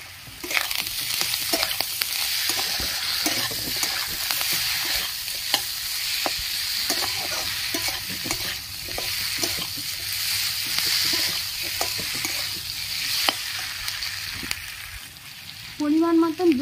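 Small kachki fish fry with salt and ground poppy seed paste while a spoon stirs them through the pan. Steady sizzling runs under repeated close scraping and tapping strokes, with a brief louder clatter at the end.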